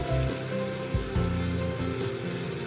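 Chicken pieces fry in hot oil for an Afghani chicken dish, a moderate, close sizzle running steadily under a low hum, with a couple of soft bumps from the pan and no talk.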